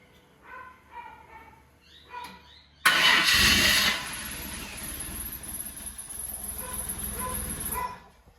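A Holden VL Turbo engine cranks, then bursts into a loud start and drops into a rough, steady idle that runs for several seconds, with a dog barking faintly beforehand.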